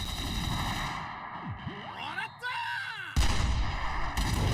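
Anime cannon fire from Gundam: The Origin, with sweeping mechanical whooshes and descending tones leading into a sharp, heavy blast that lingers as a rumbling roar.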